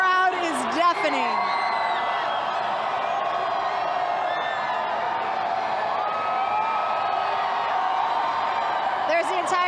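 Continuous loud cheering and whooping from a massive crowd at the Golden State Warriors' 2017 championship parade in Oakland, with voices talking over the roar throughout.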